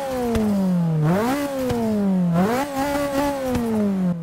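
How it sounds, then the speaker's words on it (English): A 2012 Nissan GT-R with a stock flywheel, in the Forza 6 video game, revs loudly twice, its engine note sweeping up quickly and falling back each time, with no voices. "It revs up really quickly for having the stock flywheel in there."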